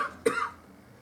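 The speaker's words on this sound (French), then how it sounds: "désolé, je tousse un peu de temps en temps" One short, sharp cough, close and clear, trailing off into quiet.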